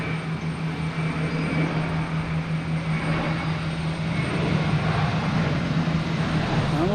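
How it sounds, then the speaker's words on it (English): A JetBlue jet takes off from Boston Logan bound for Aruba, its engines making a sustained, loud roar with a steady low hum, growing slightly stronger toward the end, without talk. "we have a JetBlue taking off. JetBlue heading to Aruba."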